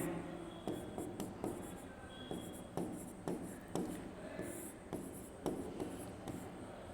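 Writing on a board during a chemistry lecture on coordination compounds: faint, rhythmic scratching strokes and taps of chalk or marker, repeated steadily, with a quiet room in the background.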